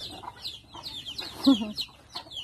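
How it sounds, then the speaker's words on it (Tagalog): Farmyard chickens clucking at a rural countryside home early in the morning, a steady run of close, overlapping clucks and short calls with one louder squawk, while faint voices murmur underneath. "Maaga pa mga manok."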